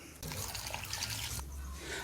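Hot water splashes and pours onto freshly grated coconut in an outdoor backyard kitchen, a soft continuous liquid rush that starts abruptly and shifts in tone partway through.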